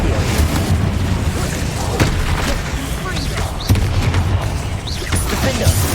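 Confringo and Incendio spell blasts in Hogwarts Legacy on PS5 boom and crackle in a steady barrage of rumbling explosions over several seconds, with a few sharper hits standing out and muffled voices mixed in.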